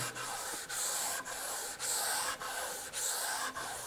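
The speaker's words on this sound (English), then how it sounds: "start sanding with the grain" Rhythmic back-and-forth sanding of wood with the grain using 220 to 320 grit sandpaper, a steady raspy scrubbing with brief pauses between about seven strokes, close and fairly quiet.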